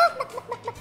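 A few short clucking calls from a chicken, quick and close, in a brief burst.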